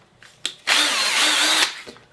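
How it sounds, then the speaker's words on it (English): A cordless drill with a brushed can in-runner motor spins up loudly and close, holding a steady high whine for about a second before stopping, with small clicks around it. "Here's my cordless drill."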